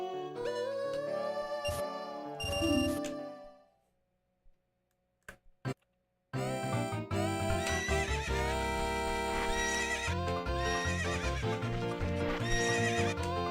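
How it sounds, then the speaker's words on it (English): Horse neighing in The Legend of Zelda: Ocarina of Time, a loud game whinny with a clip-clop rhythm, then a near-silent gap with a few sharp ticks, followed by dense game music and sound effects to the end. "Get on the horse before the neigh."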